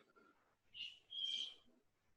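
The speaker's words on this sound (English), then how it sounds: "Is that an eagle sound?" An eagle calls from outside a door: two faint, high, piercing cries in quick succession, the second longer, heard alone at a distance.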